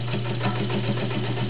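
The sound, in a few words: vintage Kenmore 1204 zigzag sewing machine stitching over a seam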